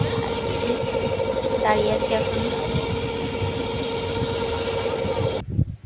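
A boat's engine drones steadily and loudly while crossing the Ganges to Mayapur, with a person talking over it before the sound cuts off abruptly at the end.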